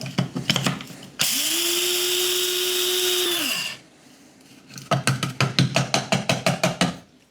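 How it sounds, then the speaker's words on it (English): A small electric spice grinder pulverizing a dry ingredient for homemade dog food, running in one loud whirring burst of about two and a half seconds, with rapid rattling clicks from the ingredient and mechanism before and after. "put it in my little spice grinder, and we'll grind it up"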